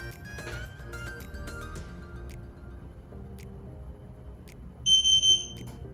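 Xiaomi Mi Air Purifier 3H giving a beep after a Wi-Fi reset: a short cluster of three quick electronic tones, close and clear, following faint background clatter.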